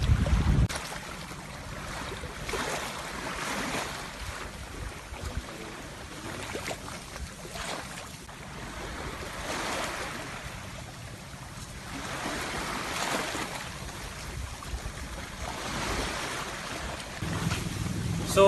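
Sea waves wash against the shore, a broad continuous roar with rising and falling surges and some wind, steady throughout with no talk.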